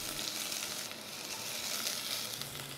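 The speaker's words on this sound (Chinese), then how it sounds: "锅子稍微有点热了，我们就下少许的油，然后下姜片爆香" Ginger slices sizzling in a little hot oil in a stew pot, a faint, even crackling hiss that runs unbroken throughout, with no voices.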